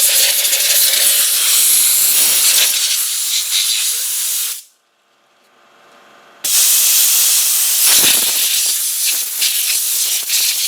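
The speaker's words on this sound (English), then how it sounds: "And then a little compressed air." Compressed air blasting onto an Audi Q5 blower motor during cleaning: a loud, close, harsh hiss, then a brief near-silent pause, then a second sustained burst.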